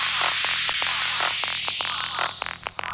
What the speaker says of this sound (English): there's some effects, white noise type of effects in here